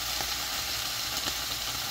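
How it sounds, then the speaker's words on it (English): Cheese fries in a hot pan with a constant, close sizzle and crackle throughout. Nobody speaks. "You still need more frying"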